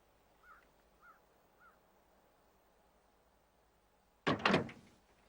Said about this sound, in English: And Rowan, open the door and step out of the truck.